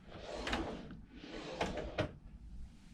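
Cabin drawers on a Carnival Mardi Gras cruise ship being slid open and shut, two or three soft, muffled sliding thumps at a fairly quiet level with no voices.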